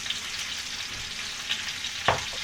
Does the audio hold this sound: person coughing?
no